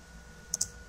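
Two quick, crisp key clicks from a computer keyboard sound close together, faint and isolated over a quiet room hum.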